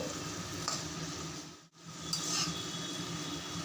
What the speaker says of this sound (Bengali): এবার নেড়ে চেড়ে দেবো